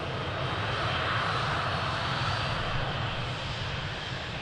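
A jet airliner roars down runway 02 at Lisbon Airport on takeoff, a loud, steady, broadband engine rumble that holds constant throughout without any voices.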